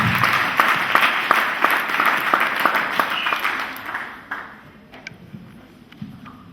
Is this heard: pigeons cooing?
no